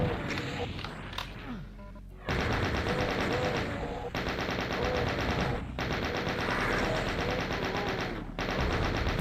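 Chaingunner machine-gun fire in the video game Doom, dense rapid bursts of loud gunfire that run almost continuously, broken by short gaps, with a voice talking faintly underneath.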